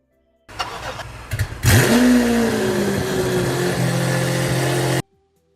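A car engine cranks with a few short bursts, fires, and flares up into a loud rev before settling to a steady, healthy idle up close until the sound cuts off abruptly.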